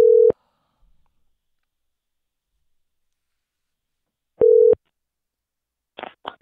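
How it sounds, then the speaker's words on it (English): Outgoing telephone ringback tone on a call, two short steady tone bursts separated by about four seconds of silence, clear and close, followed by faint line clicks. "I think it's going to start ringing, people."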